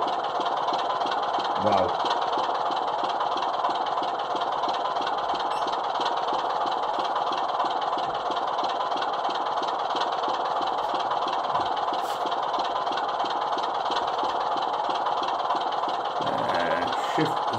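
A Suttons Class 25 model diesel locomotive idles with a steady, even mechanical drone and faint knocking throughout, a brief voice heard at the start and again near the end.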